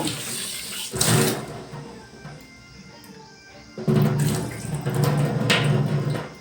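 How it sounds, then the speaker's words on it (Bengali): Mung dal is washed under a running tap in a home kitchen, with two bursts of splashing water separated by a quieter stretch while a voice talks in the background. "ডালটা আমার ধোয়া হয়ে গেছে"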